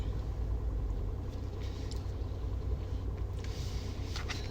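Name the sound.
approaching car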